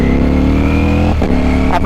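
Ducati Streetfighter V4S motorcycle engine droning loud and close under throttle, with brief dips and changes in pitch as gears are short-shifted.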